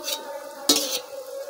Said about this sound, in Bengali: এবার নাড়িয়ে নেব সুন্দর করে।